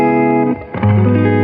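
Chords strummed on a 1993 Les Paul Custom with Classic 57 pickups through a Peavey Classic 30 amp: two ringing chords, the first sustained, a brief dip, then a second loud chord ringing out.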